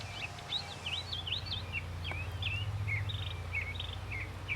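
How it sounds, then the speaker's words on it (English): A bird in a garden sings a steady series of short, bright chirping phrases at moderate distance, over a constant low hum and faint background noise. "That bird sounds beautiful."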